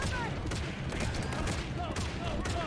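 Dense, continuous gunfire in Halo Infinite, rapid overlapping shots and bursts with occasional whizzing energy sounds, loud and close throughout without a pause.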